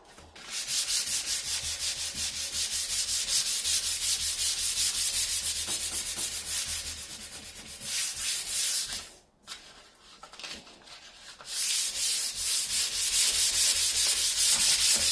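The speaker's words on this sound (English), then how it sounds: "I had put the colour on round about this hole a wee bit too quick, so I'm just taking time to rub that off" Paint freshly applied around a hole in a wooden furniture piece being rubbed off by hand, a steady close, loud abrasive scrubbing that runs continuously, pauses briefly, then resumes with renewed vigor.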